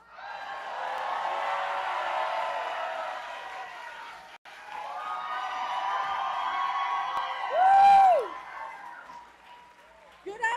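A large crowd cheers, whoops and applauds at a political rally for Congressman Colin Allred in Texas, a loud sustained roar that dips briefly and swells again, with one shrill whistle rising above it.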